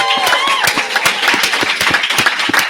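Sustained clapping from an audience at a live show at Dragon Con 2021, dense and steady with occasional louder claps, filling the whole stretch without pause.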